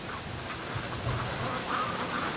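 Free-range ducks gather on a windy morning on the way to a lake, with faint quacks and chatter almost buried under steady rushing wind noise.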